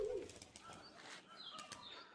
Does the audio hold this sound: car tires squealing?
no